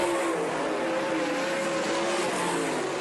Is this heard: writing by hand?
no